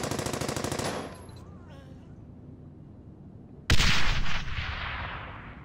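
Squad machine-gun fire in the World War II shooter Brothers In Arms: Hell's Highway, dense rattling bursts at the start, a quieter lull, then a loud renewed barrage of gunfire near the end.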